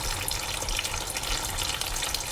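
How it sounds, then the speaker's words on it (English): Transmission fluid draining from a Range Rover L405, a steady splattering liquid patter with a constant hissy wash, heard alone and fairly close throughout. "We'll let it drip a little bit more."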